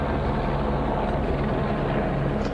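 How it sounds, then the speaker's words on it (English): A police helicopter passes overhead, a dense, steady rotor roar with broad rumbling noise filling the air, continuous and fairly loud throughout with no voices. "we got police helicopters"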